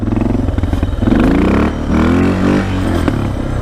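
A Suzuki DR650 motorcycle engine revs hard in first gear after a gearing ratio change, a loud close throbbing drone that rises and surges several times over a few seconds, with no voices.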